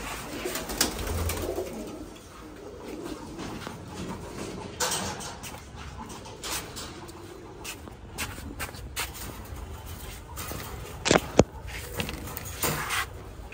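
Pigeons on a rooftop give soft low coos amid shuffling and scattered knocks, fairly close, with a few sharp clatters near the end and no talking.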